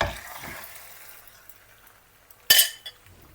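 Soft frying hiss of minced-meat patties in a pan, with a sharp clink of utensils against cookware partway through, fairly quiet overall.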